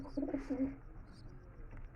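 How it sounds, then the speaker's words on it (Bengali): A fancy pigeon coos in a short soft burst at the start at a pigeon market, then fades into faint background noise. "প্রথমেই চলে এসেছি ফেন্সি পায়রা"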